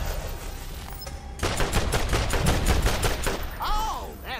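Gunfire in Borderlands: after a quieter opening, a rapid automatic burst of sharp, evenly spaced shots rattles for about two seconds, followed by a short rising electronic whine.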